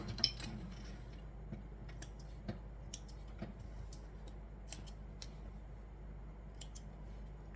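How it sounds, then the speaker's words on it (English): Small scissors snip a loose jump stitch on a machine-embroidered piece, a few quiet, sharp clicks scattered over a faint steady hum, with no voices. "Trim that little jump stitch as well."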